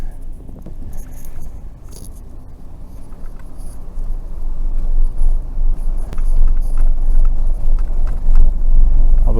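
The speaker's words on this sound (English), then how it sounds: "We're driving on the sand." A car drives over hard-packed sand at White Sands, its low road rumble steady and building slightly louder toward the end, with faint patter of grit against the body.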